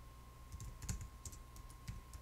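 Quick, light keystrokes on a computer keyboard while searching something up, a close but faint patter of irregular taps over a steady low background hum.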